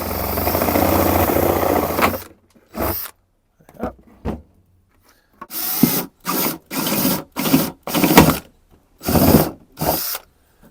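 Holes are punched into a container to make a strawberry planter. The clip starts with a sustained scraping noise, then gives a series of short, loud rasping bursts separated by silent gaps, heard up close with no talk.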